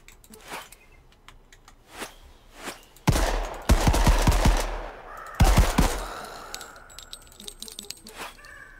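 Gunfire in the shooting video game Necrosis End, quick bursts of rapid shots around the middle, surrounded by scattered clicks and lighter game effects.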